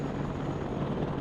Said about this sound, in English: So I brought up a scout helicopter that wasn't one with Hellfire